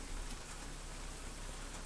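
In-game rain falls in Pick Your Poison, a steady hiss of dense raindrops with even, unbroken texture from start to end.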